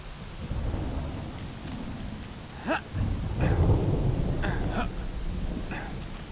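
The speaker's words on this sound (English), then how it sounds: "But the rain is actually coming down worse." Heavy rain pours steadily in a Smalland: Survive the Wilds storm, with rolling thunder swelling beneath it and a brief crackling strike partway through.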